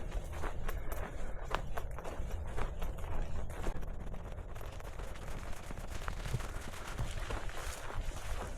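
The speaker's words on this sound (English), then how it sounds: "Some cows up here." Dense crunching footsteps of cows moving through brush on a Florida trail, with continuous rustling and thuds at close range and no talk.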